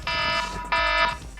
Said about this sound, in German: Timer ist abgelaufen.